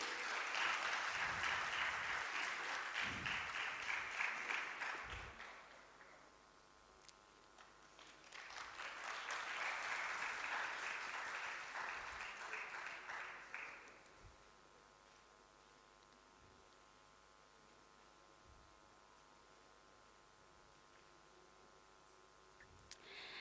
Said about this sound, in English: May I have a big round of applause,